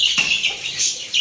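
A hen and her chicks are let out of a cage: a brief flutter of wings and high, thin chirps, close and short.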